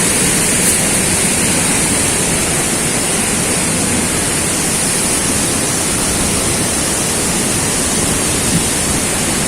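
Depalyon Falls in General Nakar, Quezon pours with a loud, continuous broadband roar that stays constant and dense, close by, with no voices breaking through.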